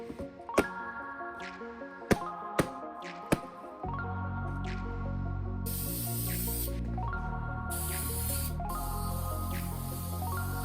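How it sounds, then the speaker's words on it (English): Spray-on clear shellac hisses onto drawer fronts and legs of a mid-century dresser in two short bursts, a few seconds each, heard over steady background music with earlier sharp clicks. "I applied 2 layers of spray-on clear shellac to the drawer fronts and the legs."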